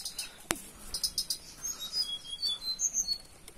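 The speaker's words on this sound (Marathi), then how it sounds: "खूप छान असा आवाज काढतोय पक्षी।" Out in the countryside among wild vegetable vines, a bird sings a run of high, thin chirps and whistled notes. It is fairly faint and steady, with a soft insect-like buzz behind it and no talking.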